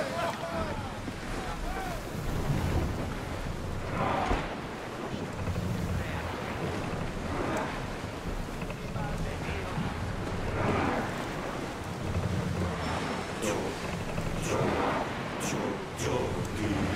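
A sailing ship moves across ocean waves, with gusting wind buffeting the microphone and rolling surf surging in repeated swells, loud and close throughout.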